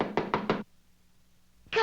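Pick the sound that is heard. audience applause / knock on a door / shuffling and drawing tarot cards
knock on a door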